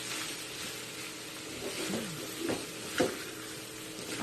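Yangchow fried rice with meat and vegetables sizzles steadily in a pan as a spatula tosses it, with a few louder scraping strokes standing out near the middle.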